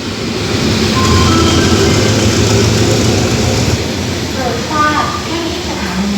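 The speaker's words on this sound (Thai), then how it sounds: "มาแล้วครับกับขบวนรถธรรมดาขบวนที่ 254ครับ254จากหลังสวนจังหวัดชุมพร ปลายทางธนบุรีครับ" Ordinary passenger train no. 254, from Lang Suan in Chumphon bound for Thonburi, rolls into Taling Chan Junction station in Thailand with a loud, steady, close rumble of engine and wheels, and voices faintly under it.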